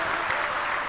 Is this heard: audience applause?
yes